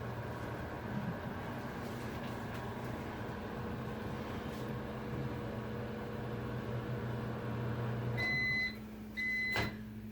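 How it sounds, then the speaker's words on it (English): A steady microwave oven hum runs for several seconds while melting butter or margarine, then a few short electronic beeps sound near the end. "So microwave it for 10 seconds and wait."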